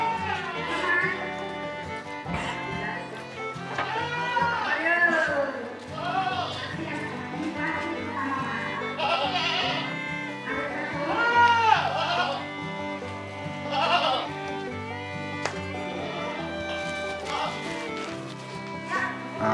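Standard-class breeding goats in a pen bleat continuously and close by, with many overlapping calls rising and falling over a busy background of animal noise.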